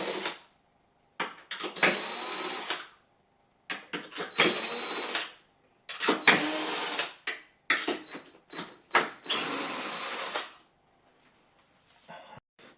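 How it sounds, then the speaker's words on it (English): A power tool spins nuts and bolts off a Kia Niro / Hyundai Ioniq plug-in hybrid battery pack in several short whirring bursts of one to two seconds each, separated by quiet pauses, close and fairly loud. "We're just taking all these little nuts and bolts out just now."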